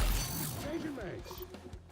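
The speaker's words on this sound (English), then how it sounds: "Changing mags." A weapon magazine change in the shooter XDefiant: a short run of clicky mechanical ratcheting and metallic handling sounds, close and moderate in level over a steady game background.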